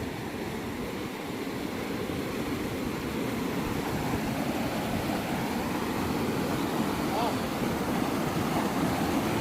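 A mountain stream rushes beneath large stones at a crossing where the bridge has broken, on a trek to high lakes; the water makes a steady, loud, unbroken roar close by.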